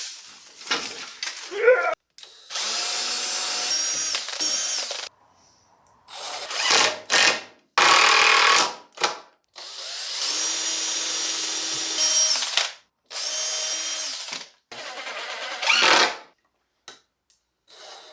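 Power drill boring into wood while building a motorcycle table, heard as repeated bursts of whining motor of varying length separated by short gaps, close and loud, with a few voice fragments between runs.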